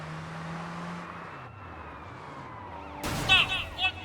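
Police car siren wails in the Sleeping Dogs video game, a steady tone that starts loud and glides downward, followed by fainter traffic noise and then a burst of louder rising and falling siren sweeps near the end.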